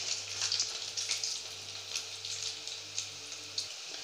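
Paneer cubes frying in oil over a high gas flame, a steady crackling sizzle with irregular pops and spatters, close and fairly quiet, no voices.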